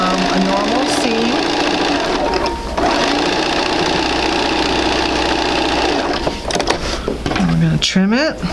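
A sewing machine runs steadily stitching a seam in a quilt sampler, a loud close mechanical whir with a fast rhythmic clatter, briefly pausing, while someone talks over it.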